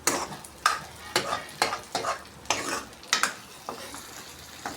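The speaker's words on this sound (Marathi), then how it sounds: "तर त्याला फ्राय व्हायले आलू हलवून घेऊया चांगल्या पद्धतीनं" Potatoes frying in a pan for dhaba-style spicy aloo bhaji, stirred in a quick series of sharp scraping strokes with sizzle between them, close and clear, without talk.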